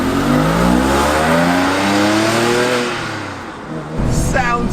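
A Porsche 911 of the 997 generation driving on the road, its engine note climbing through gears in loud rising sweeps, easing off briefly and then building again.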